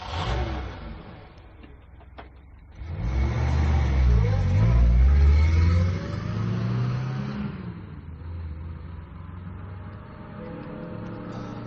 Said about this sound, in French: Allons, démarrez la voiture.